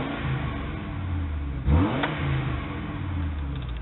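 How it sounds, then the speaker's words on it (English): A Ford E-series van V8 engine, an E-150, cranks and catches partway through, then settles into a steady, smooth idle with a throaty low rumble up close. "start up this engine. It's a good sound, and that's a smooth motor"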